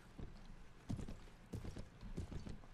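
Horse hooves clip-clop in the medieval combat game Mount & Blade, a steady run of muffled thudding steps close by, with no talk over them.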